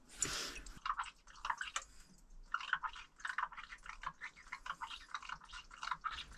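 Water trickling into a pump filter as it gradually fills, a faint close run of small irregular drips and splashes with no voices.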